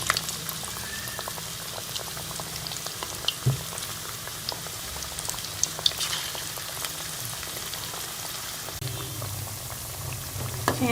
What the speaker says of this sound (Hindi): ये आपने लो टू मीडियम फ्लेम पे जो है वो फ्राई करने हैं।